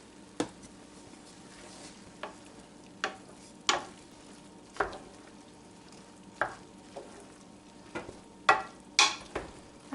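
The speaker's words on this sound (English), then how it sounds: "you want to try and fold it in because you don't want to smush the bread cubes" Heavy cream being folded into bread cubes in a pan over low heat for chestnut stuffing, giving a steady soft sizzle broken by repeated wet scraping stirs spaced a second or two apart, close and fairly clear with no talking.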